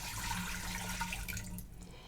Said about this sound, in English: we're going to put 4 cups of water in